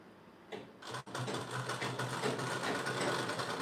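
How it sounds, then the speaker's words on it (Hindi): A sewing machine stitches a blouse, starting up after a brief pause and then running steadily with a fast, even mechanical whir that fills the rest of the clip. "अभी हम इसमें सिलाई लगाना चालू करते हैं"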